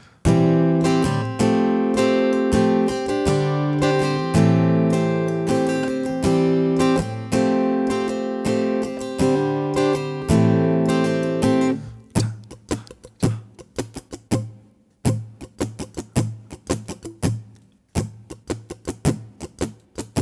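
A guitar strummed in a steady rhythmic pattern with full chords. It thins to sparser, muted percussive strokes near the end. Close and clear, no voices.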